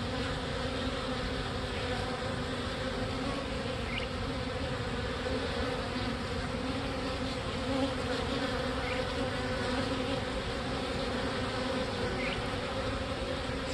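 A swarm of about 5,000 honey bees building comb fills the air with a dense, continuous buzzing hum, steady and close throughout, with no one talking.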